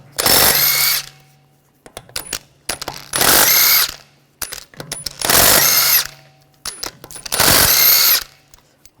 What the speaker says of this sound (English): take the lug studs out